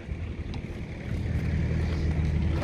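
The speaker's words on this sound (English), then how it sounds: "Below we have the connection for the air cleaning, blowing out of the hose and the lens." Compressed air rushes out of the hose on a Strassmayr RKW HHC crack-sealing machine with compressor, a steady broadband hiss and blowing roar that swells slightly louder partway through, close to the microphone with no speech.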